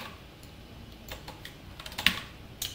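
Code being typed on a computer keyboard during a C programming lesson: scattered soft key taps with uneven rhythm, one sharper click near the end, close up and fairly quiet.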